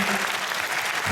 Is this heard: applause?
yes